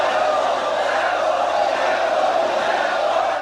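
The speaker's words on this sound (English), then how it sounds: "The crowd is chanting Rambo." A film crowd chants Rambo in Rambo III, a steady dense roar of many voices that holds at an even level throughout with no pauses.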